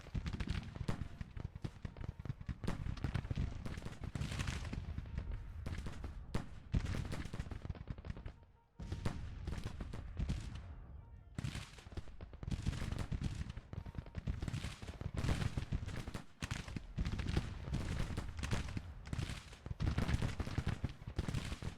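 Dense musket volleys crackle and roll almost without pause in Grand Tactician: The Civil War, Union lines firing on Georgia regiments, loud sustained battlefield gunfire with a brief lull midway before the fusillade resumes.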